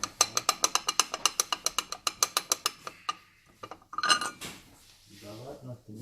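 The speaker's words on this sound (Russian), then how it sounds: "Ну да, вот такой, наверное, есть стук" Rapid, even series of sharp metallic knocks from the front suspension of a Mercedes W251 R350 R-Class, about a dozen in a row, then a few irregular clunks and a louder rattle near the end.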